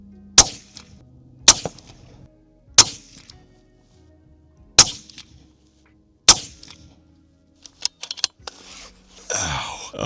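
Five loud, sharp rifle shots from a Sig Sauer Cross Trax .308 firing Sig Sauer ammunition ring out outdoors, evenly spaced over several seconds, followed by softer handling clatter and rustling.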